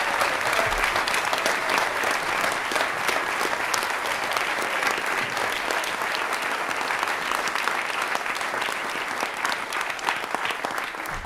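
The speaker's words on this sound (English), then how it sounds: "Can we give them another round of applause?" Sustained, dense applause from an audience honoring school musical performers after a show, steady and loud throughout with no break.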